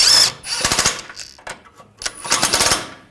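Power tool, likely an impact wrench, tightening an outer tie rod nut on a 2009-2017 Volkswagen Tiguan: two close, loud bursts of rapid hammering ratchet, separated by short pauses and a single tap.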